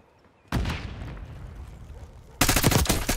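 Heavy gunfire in Call of Duty: Black Ops 6, a sustained loud rattle of shots beginning abruptly, then a second, harder burst of rapid fire near the end.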